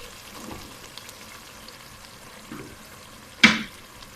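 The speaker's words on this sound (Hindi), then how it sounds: "इसको भून लेते हैं थोड़ा सा ऑयल अलग होने तक" Green chillies fry in a mutton bhuna gosht masala with tomatoes and oil, a quiet steady sizzle marked by soft stirring scrapes and one sharper clatter near the end.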